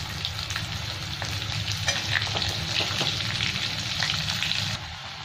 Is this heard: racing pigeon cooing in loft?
no